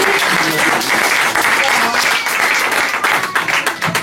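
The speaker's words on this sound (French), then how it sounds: "On peut applaudir les enfants." An audience at a community gathering applauds children, a dense round of clapping that holds steady before thinning into scattered, uneven claps near the end, with a voice faintly present underneath.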